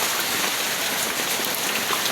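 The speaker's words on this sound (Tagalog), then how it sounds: "bumuhos yung ulan at saka lakas ng hangin" Heavy typhoon rain pours down in a dense, steady hiss with no pauses, close and constant.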